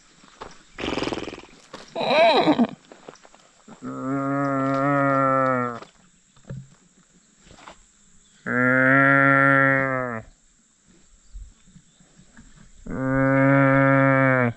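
Cattle moo three times in long, loud, drawn-out calls outdoors, with short pauses between them. A person makes brief sounds earlier that may be a voice imitating a cow.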